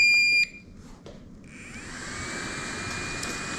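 A 3M Versaflo powered air-purifying respirator blower unit starts with a short high beep. A steady whooshing airflow hum then builds and runs evenly, with no talk.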